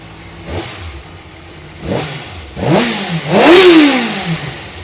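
A Kawasaki ZX6R Ninja under restoration runs with an uneven engine note, rising in repeated revving swells that grow louder toward the end, heard up close without talking.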